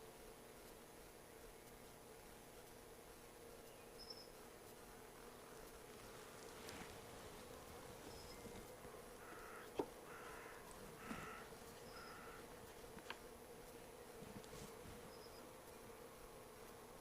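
Honey bees hum and drone around a working apiary during a hive inspection, a faint, steady buzz with occasional louder passes from individual bees close by.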